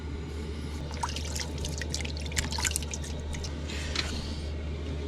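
Hot water runs from the faucet into a small van sink during shaving, a steady close trickle with scattered splashes and drips over a constant low hum.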